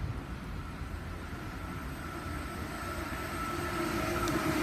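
A Sydney Waratah electric passenger train rolls past at Padstow station with a steady, broad rumble and rail noise that swells slightly toward the end, heard at moderate distance with no talking.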